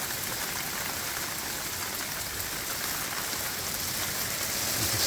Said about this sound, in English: It is absolutely chucking it down.